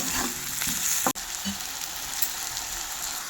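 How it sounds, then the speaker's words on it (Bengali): Potatoes coated in spice masala are stirred in a hot pan for a rohu fish curry, giving a steady near sizzle broken by a quick scrape. "একটু আলু টালু দিয়ে নাড়াচাড়া করে নেবো, তাহলে মশলাটা এর গায়ে আলুর গায়ে লেগে যাবে"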